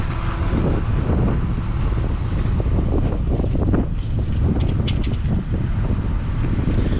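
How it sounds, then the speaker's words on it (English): Steady wind blows outdoors by a lake on a cold day, roaring and buffeting the microphone without pause, loud and close, with faint thin high sounds near the end. "with the wind blowing, it feels like it's about 0 today"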